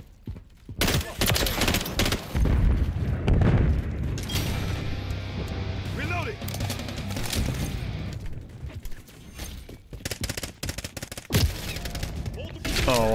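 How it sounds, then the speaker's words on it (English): Dense bursts of rapid automatic gunfire in the shooter game Call of Duty: Modern Warfare III, with loud close rattling volleys and booms running nearly nonstop through the scene. "I thought my teammate was shooting at me."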